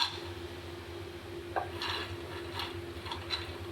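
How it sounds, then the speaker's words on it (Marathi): Peanuts tossed and stirred with a spatula in a metal kadhai over low heat give off soft scraping and rattling strokes, steady and close, with no talk. "कढईमध्ये शेंगदाणे घालून घ्यायचे"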